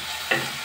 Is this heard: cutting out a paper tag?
no